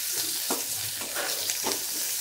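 Sliced onion and green chili fry in oil in a wok for a mixed vegetable ghonto, giving a soft, steady sizzle broken by a few brief stirring scrapes at a modest distance.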